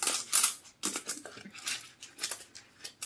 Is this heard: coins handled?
yes